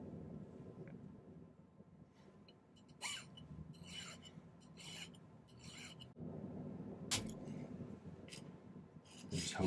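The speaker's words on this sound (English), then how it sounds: "I do a lot of this filing in front of the camera so you can see the sort of filing I'm doing" A metal file works a silver star pendant at a silversmith's bench, faint irregular rasping strokes in short bursts against a quiet room hum.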